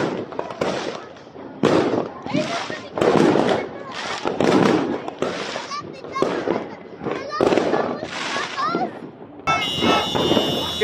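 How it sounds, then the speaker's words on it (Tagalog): Fireworks display bursting on New Year's Eve, many shells popping and crackling at a distance in irregular bursts, with people talking throughout. "nanonood na lang kami ng fireworks, no, kasi kabi-kabila yung fireworks display na napapanood namin"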